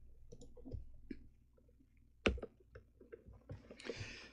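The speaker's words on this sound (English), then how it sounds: "I know the keyboard noise is very loud right now." A computer keyboard clicks quietly and close by, scattered irregular keystrokes with one sharper clack partway through and a quick cluster of taps at the end.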